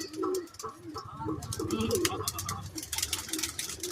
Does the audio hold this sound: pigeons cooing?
yes